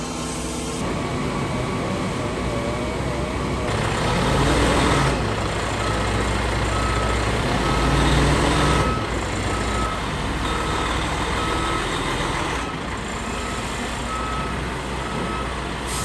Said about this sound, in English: so scooting the truck over